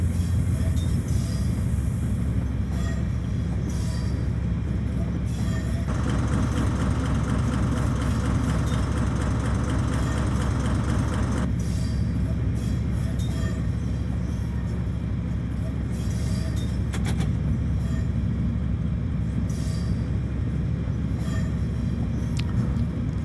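A Class 70 diesel locomotive hauling tanker wagons into a refinery yard, with a continuous heavy engine drone and rolling wagon rumble close by, plus occasional wheel squeal. Faint talk runs under it.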